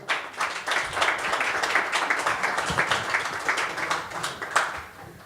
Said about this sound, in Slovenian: Zdaj pa kar aplavz.